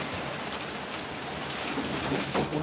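Heavy rain lashing down during Hurricane Melissa in Spanish Town, Jamaica, a steady dense hiss throughout with gusting surges near the end.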